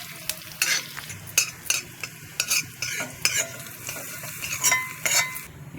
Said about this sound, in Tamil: பூண்டு பச்சை வாசனை போக நல்லா வதங்கணும்.